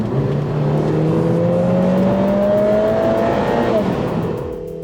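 Lotus Emira sports car with a dual-clutch transmission revving hard, its engine note climbing steadily through the gears with crisp upshifts before easing off at the end, loud and close with no talk.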